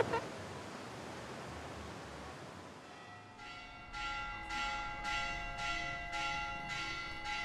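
Church bells begin to toll after a few seconds of hiss, striking in a slow, regular rhythm, ringing and echoing from some distance.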